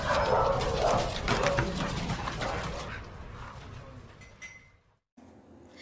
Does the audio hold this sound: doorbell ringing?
no